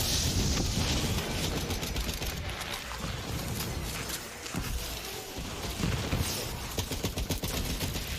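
Sustained rapid gunfire from a Borderlands 3 firefight rattles on for the whole stretch, with dense bursts, booming impacts and mechanical clatter layered together and staying loud throughout.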